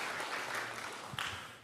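Audience applause at a Korea–US alliance forum memorial event, a continuous bed of many people clapping with a brief louder burst near the end, heard alone.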